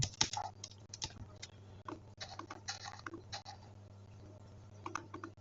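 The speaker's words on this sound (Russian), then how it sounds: "Клавиатура реагирует очень хорошо." Someone types on a computer keyboard while playing Minecraft, producing quick irregular clicks and bursts of key presses at close range, with no voices.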